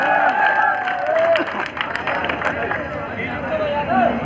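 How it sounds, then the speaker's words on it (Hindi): Crowd applause and cheering at a bodybuilding tournament, a dense burst of clapping with a lively hubbub from the audience, while an announcer talks over it. "भाई इस लड़के के लिए जोरदार ताली हो जाए"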